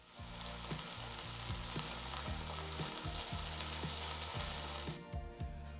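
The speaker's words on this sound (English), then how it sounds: "The first step is to brown the pork shoulder on all sides." Pork shoulder browns in a hot Dutch oven, giving a loud, steady sizzle and crackle of frying fat close up, with a few faint knocks of the pot before the sizzle dies down near the end.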